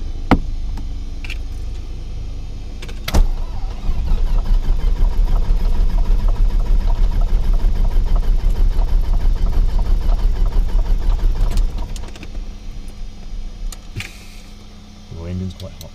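A light aircraft's piston engine turns over quickly and catches, then runs at a loud, steady rumbling idle for several seconds before being throttled back, with someone talking over it.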